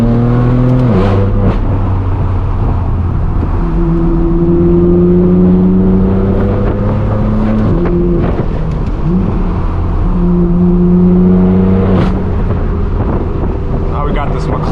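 Loud, continuous exhaust drone from a straight-piped BMW M4 F82 driving through canyon roads, its engine note stepping up and down through gear changes with occasional rasping bursts, wind noise over the microphone throughout.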